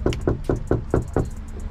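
Quick knocking on a door by a food delivery driver, about six sharp evenly spaced raps close by, with a faint hum behind.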